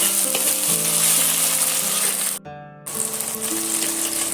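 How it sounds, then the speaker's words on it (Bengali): Cashew paste sautéing in a pan for a steamed egg curry, giving a loud, steady close sizzle with faint stirring scrapes and one short pause partway through. "কাজু বাদাম বাটা সেটা আমি এর মধ্যে দিয়ে দেব দিয়ে আবারও কিছুক্ষণ ধরে এইভাবে কষাতে থাকবো"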